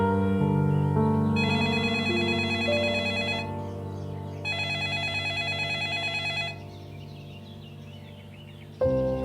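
A telephone rings repeatedly and goes unanswered, its regular trilling bursts clear and fairly loud over a steady background hum, with no voices heard.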